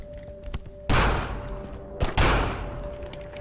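Two heavy gunshots in the video game Final Station, each a loud booming crack with a decaying tail, about a second apart, over a quiet background.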